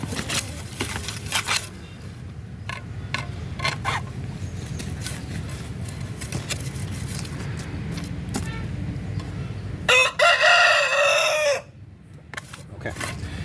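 A rooster crows and chickens cluck in a backyard garden flock, steady clucking throughout with a louder, clear crow near the end, against low outdoor background rumble.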